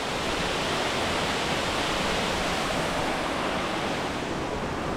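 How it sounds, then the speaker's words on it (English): Ramsey Cascades waterfall in the Great Smoky Mountains produces a dense, unbroken roar of falling water, loud and steady from close by, with no talking. "One last look at the Ramsey Cascades Falls"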